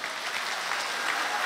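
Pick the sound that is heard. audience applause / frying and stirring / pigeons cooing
audience applause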